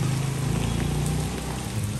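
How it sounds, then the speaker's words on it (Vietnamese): Steady heavy rain pours down outdoors on a street, a dense, constant hiss with no pauses and no voices. "Trời rất là mưa"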